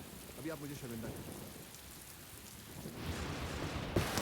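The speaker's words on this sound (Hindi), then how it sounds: "ये अचानक बारिश और वो भी इतनी जोर से।" Heavy, sudden rain pours steadily in a dense wash that grows louder toward the end, with a short burst of voice early on over the downpour.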